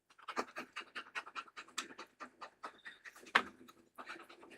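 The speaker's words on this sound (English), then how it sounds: "If you're hearing a dog pant, they just went for a run." A dog pants hard after a run, close and rapid, its rhythmic breaths pulsing evenly throughout with a brief louder huff near the end.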